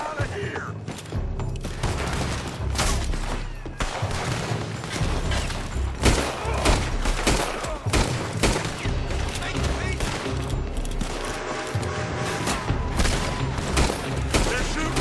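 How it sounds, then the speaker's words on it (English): Pinkertons open fire in a Red Dead Redemption 2 gunfight, with a dense, continuous barrage of overlapping rifle and pistol shots and heavy booms, and voices shouting underneath. "They're shooting from that building."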